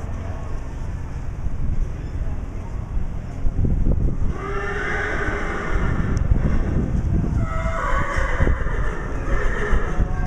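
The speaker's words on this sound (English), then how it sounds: "There's a big horse." A big horse in a stable at the Wadena County Fair in Minnesota gives a couple of whinnies partway through, set against a steady background hum and occasional shuffling.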